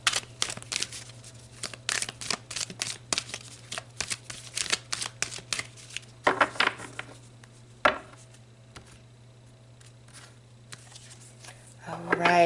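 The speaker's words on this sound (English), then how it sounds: "let's pull some more cards" Tarot cards being shuffled and pulled: rapid bursts of riffling and snapping card flicks in quick runs, then a few sharper single slaps, over a steady low hum with a voice speaking briefly.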